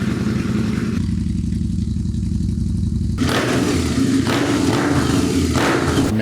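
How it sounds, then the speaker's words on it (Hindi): A Harley-Davidson V-Rod Muscle cruiser motorcycle with a 1250 cc engine starts up nearby. A low steady churn turns partway through into a loud, fuller rumbling idle, with no voices. "ये हार्ले डेविडसन की स्पोर्ट्स क्रूज़र बाइक है वी-रॉड मसल"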